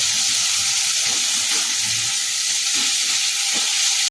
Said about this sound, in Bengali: মুখ ডালটা দিলেও ভালো করে কষাবো তিন চার মিনিট সময় ধরে ভালো করে কষিয়ে নেব